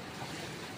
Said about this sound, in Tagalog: Ang laking kuan. Laking alon.